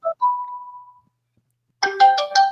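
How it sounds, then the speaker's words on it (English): A phone ringtone chimes alone, a short two-note tone and a sustained note, then after a pause a bright repeating electronic ringing pattern, loud and close. "That phone"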